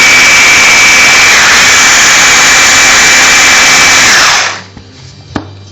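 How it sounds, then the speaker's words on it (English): A food processor purees sofrito vegetables with a loud, steady motor whir that runs continuously for about four seconds, then winds down and stops, followed by a couple of faint clunks. "Same as this food processor, the same way the blender is going to work."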